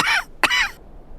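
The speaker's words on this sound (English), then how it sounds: "he's been coughing like this since the first time we met him in Syberia 1" Hans, a character in the video game Syberia 2, gives two harsh, raspy coughs in quick succession, close and loud, followed by a quiet pause.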